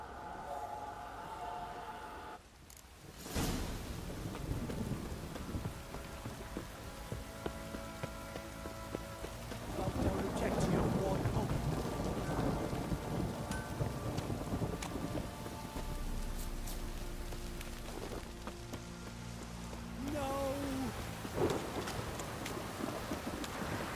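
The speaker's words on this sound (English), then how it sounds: "This downpour's a bastard, it is." Heavy rain pours steadily while thunder rumbles and cracks in The Witcher 3, swelling louder midway before easing to a constant downpour.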